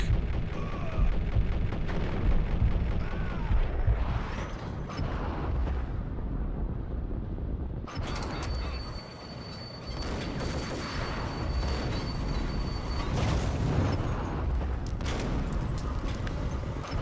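Gunfire in the Max Payne video game, with dense, loud bursts of shots and booming impacts running continuously through a chaotic firefight, a short lull partway before the shooting resumes.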